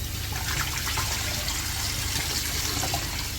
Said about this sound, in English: then we're gonna go in and rinse off with some fresh water